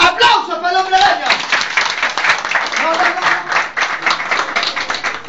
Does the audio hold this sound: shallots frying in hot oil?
no